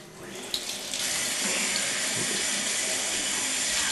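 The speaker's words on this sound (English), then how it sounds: "Rinse means to use, apply water in a cleansing fashion." Running tap water pours steadily into a sink as a coffee pot part is rinsed, a continuous close splashing hiss that swells after the first second and holds to the end.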